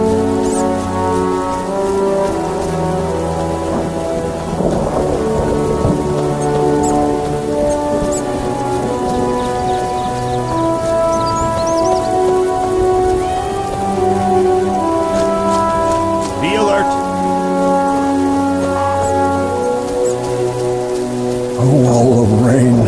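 Steady rain falls throughout The Witcher game's outskirts of Vizima, a continuous hiss under sustained ominous music tones, with brief speech near the end.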